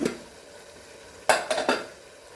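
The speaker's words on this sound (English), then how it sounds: "So now I will add in this chana dal which is cooked." Cooked chana dal goes into a pot of mutton curry and is stirred, giving a soft background sizzle, then a few clear scraping and clinking strokes of a spoon against the pot.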